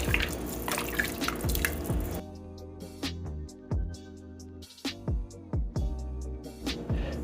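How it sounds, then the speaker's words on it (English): Beef pho broth poured into a bowl, heard as a close run of liquid splashing that breaks into separate drips and trickles, fairly quiet with no talking. "So next we're gonna go in with our broth and some of our meat."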